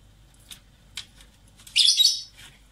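A pet bird chirping indoors, with a couple of short faint tweets followed by a louder, brighter burst of rapid warbling song close by.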